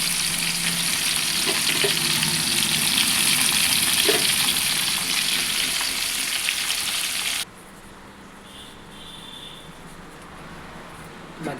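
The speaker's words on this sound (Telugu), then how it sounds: "మధ్యలో మాడిపోకుండా ఇలా గరిటెతో కలుపుతూ ఉండండి." Brinjal curry frying in oil, a loud, steady sizzle with ladle stirring scrapes for most of the time, then the hiss abruptly drops to a much quieter background.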